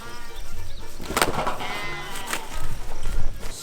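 A lamb bleats a few times amid rustling and movement noise, fairly close, with a busy background, while being herded into a pig tent.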